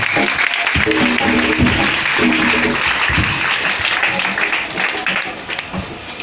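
A church congregation at a New Year's Eve service applauds in a broad wash of clapping, steady and full, while a voice carries on over it.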